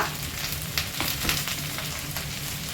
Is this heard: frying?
yes